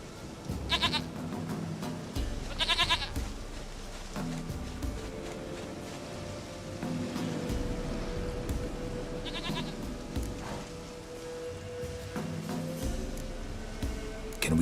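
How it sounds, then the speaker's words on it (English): A goat in The Witcher 3 game gives several wavering bleats at intervals over a low rumbling ambient game soundscape, fairly close and distinct. "Goat of mine, dearest,"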